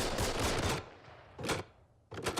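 Machine gun fire in a WWII war drama: heavy, broadband rattling bursts, close and loud, with a long volley, a short pause, then two more short bursts.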